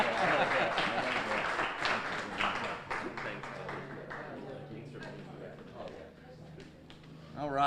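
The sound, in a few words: audience applause for the mayor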